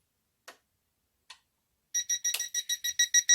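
Two faint clicks, then a rapid series of loud, high-pitched electronic beeps from a Toptes propane gas leak detector alarm, about nine in quick rhythmic succession.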